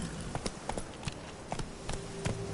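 Horse hooves clip-clop in a steady rhythm at moderate distance in The Witcher 3, a quiet trotting cadence over a soft background with no talk in the clip.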